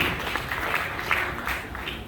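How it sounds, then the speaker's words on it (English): Clapping from an audience at a Rotary Club event, a brief steady patter of applause at moderate loudness, continuing evenly without voices on top. "give her a big round of applause again"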